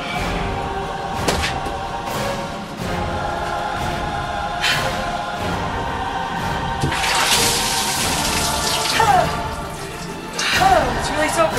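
Dirty, soapy dishwater is dumped from a bucket over a person in an ice bucket challenge, a loud splashing gush with several surges and spatters, and people talk and shout around it.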